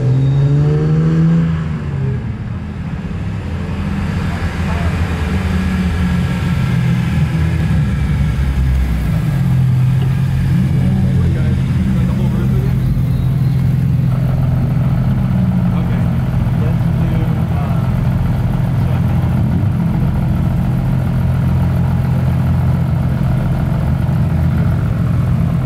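Modified JDM cars roll into a Cars and Coffee meet, a steady loud drone of idling and revving engines that builds and shifts as one car after another drives past up close.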